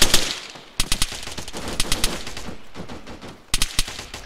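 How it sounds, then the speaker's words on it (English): Gunfire in ARMA 3 as enemies shoot through a building wall: sharp bursts of loud automatic shots come in rapid clusters, pause, then return with another close burst. "They're trying to shoot through the wall right now."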